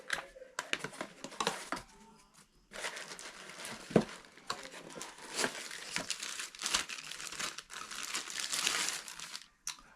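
Packaging crinkling and rustling while a ViZiUUY VZ-3B1 2K solar security camera is unboxed, close and fairly soft, in irregular bursts of crumpling plastic and paper with brief pauses between handlings.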